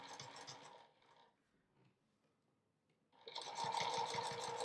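A sewing machine stitches a quilt, running in a steady buzzing burst, pausing briefly, then resuming loud and continuous at close range.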